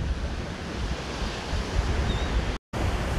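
Ocean waves break steadily on a windy Cancun beach, a continuous loud wash of surf with wind rumbling against the microphone and a brief dropout near the end.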